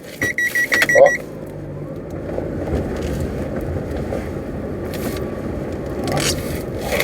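Honda HR-V suspension giving a violent clunk as reverse is engaged: a cluster of rough knocks and jolts in the first second, then the car's steady low rumble carries on with no talk.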